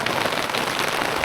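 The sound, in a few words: rain drops falling at Mt. Pinatubo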